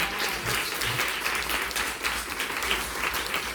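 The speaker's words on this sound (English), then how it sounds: "So a round of applause for Xiye." An audience at a women professionals' keynote event claps in steady, sustained applause, a dense crowd sound that holds at even loudness throughout.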